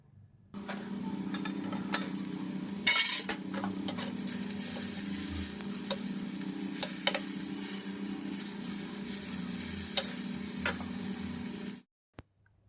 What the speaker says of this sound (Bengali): কম তেলে কিভাবে পুরো বেগুনটা ভাজবো অথচ সুন্দর হবে সেই জন্যে এই প্রসেসে বেগুনটা ভাজা করছি